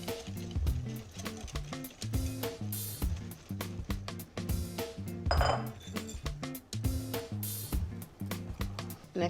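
A whisk beats dry ingredients into a mixture in a bowl for a dessert, giving a fast, steady run of loud metallic clinks and scrapes against the bowl with no pauses and no talk.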